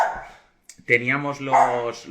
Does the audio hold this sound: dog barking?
yes